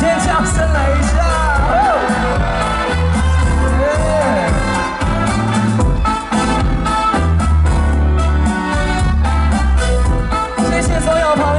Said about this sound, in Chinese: 好，给自己掌声跟尖叫声来一下